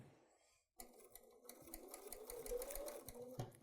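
A sewing machine stitches fabric fed through after a starter strip, its steady rapid mechanical chatter starting abruptly after a brief near-silence and running loud and close to the end.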